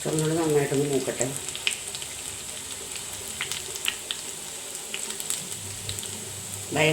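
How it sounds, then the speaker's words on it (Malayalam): Shallots fry in hot oil with mustard seeds already spluttering, giving a steady close sizzle with scattered crackles and small pops. A brief low voice comes at the start, then a bit more talk near the end. "ചുമന്നുള്ളി നന്നായിട്ടൊന്ന് മൂക്കട്ടെ"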